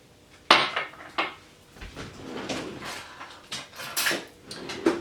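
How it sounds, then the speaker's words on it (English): A spoon clatters against a bowl while stirring a seasoning mix of salt and pepper for corn ribs, giving a series of sharp scraping clinks and knocks close up, with no talking. "So I'm give it a stir to mix this all up"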